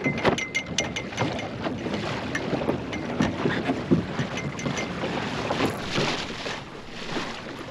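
A light sailing dinghy jibing in wind, with steady gusting wind buffeting the microphone, water rushing along the hull and scattered knocks and rattles from the rigging and boom.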